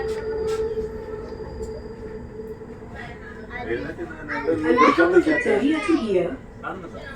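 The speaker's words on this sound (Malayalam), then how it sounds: "അടുത്ത മെട്രോ താണ്ട പോകുന്നുണ്ട്." A Riyadh Metro train rumbles and hums on the tracks from inside the carriage, with voices speaking over the noise partway through.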